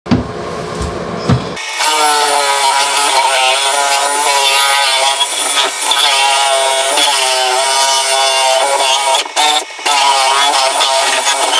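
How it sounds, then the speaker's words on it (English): A power drill cuts out the inside of a PVC pipe at a fiberglass shower base. After a brief start, it gives a loud, continuous, high-pitched grinding whine with two short dips near the end. "I'm gonna take this with my drill and I'm gonna go to the inside, cut the inside of this PVC pipe off"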